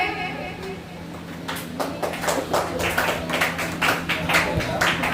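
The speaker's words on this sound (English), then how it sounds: "Please clap for him." Applause from a crowd starts after a quiet moment and builds into steady, fairly loud clapping that continues to the end.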